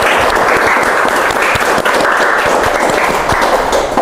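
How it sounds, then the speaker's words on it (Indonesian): Loud, close applause from a school audience at the end of a podcast recording, a thick continuous burst of clapping hands that stays full and even for the whole stretch. "tepuk tangan buat kita semua"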